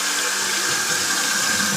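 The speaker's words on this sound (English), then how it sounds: "rinse my hands off real quick" Plain tap water runs steadily as hands are rinsed under a faucet, a constant close hissing splash with no speech over it.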